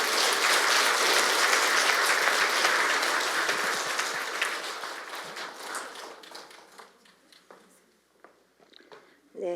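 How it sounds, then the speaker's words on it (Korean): A church retreat audience applauds a priest after his talk on ecological conversion, a dense, lively round of clapping that gradually thins and fades out into scattered claps. "다시금 감사의 박수 올려드립니다"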